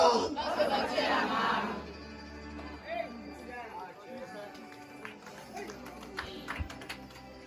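A church congregation cheers and shouts in a loud crowd roar over the first couple of seconds, then fades to scattered voices and a preacher talking over the room.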